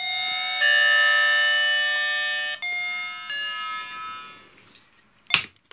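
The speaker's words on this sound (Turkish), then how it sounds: "yine çalıyor zilimiz" An electronic doorbell plays a sustained multi-tone chime that shifts pitch a few times, ending with a sharp click.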